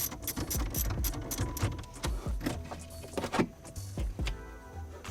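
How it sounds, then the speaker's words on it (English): A wrench works a 10 mm battery terminal nut on a car, giving a run of close metallic clicks, ratchets and clanks in irregular bursts, with no voices. "The first thing we need to do is disconnect the battery. It's going to be a 10 millimeter right down here in the corner."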